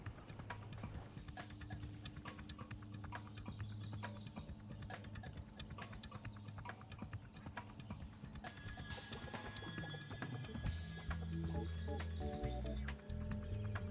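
Rapid clip-clop of galloping hooves over a steady soundtrack in the video game Spyro 3: Year of the Dragon, with a horse whinnying partway through; loud and continuous.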